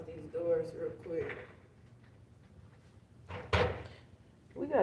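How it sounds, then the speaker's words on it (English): A door bangs shut with one sharp, loud thud midway, amid someone talking before and after it, with softer handling knocks around it. "Close these doors real quick."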